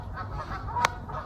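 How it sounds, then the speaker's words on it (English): A single short honk from Canada geese on a fishing lake cuts through soft outdoor background noise, one brief call at moderate distance with no talking. "we've got these Canada geese on here that are smashing the lake up"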